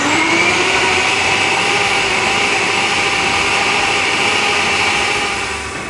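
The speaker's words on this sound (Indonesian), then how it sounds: "Kita blend sebentar-sebentar aja sampai kelihatan udangnya tuh jadi cincang kasar gitu." A blender chops chicken and shrimp into a coarse dim sum filling, giving a loud, steady motor whir that holds for several seconds, close by and with no talking.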